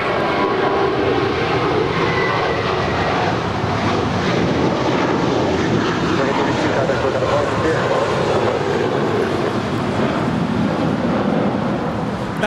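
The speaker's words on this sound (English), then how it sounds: "That is American 32 departing to JFK. It's an A321." An American Airlines Airbus A321 jet airliner departs LAX bound for JFK, its engines producing a loud, steady roar with a broad rumble throughout, and no voices are heard.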